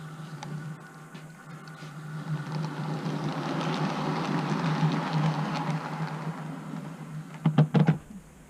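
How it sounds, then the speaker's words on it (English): A small motor hums and rattles as a Bachmann model train rolls steadily along its track, swelling gradually, then ending in a few quick clicks and clacks. "let me move the train out of the way for a moment."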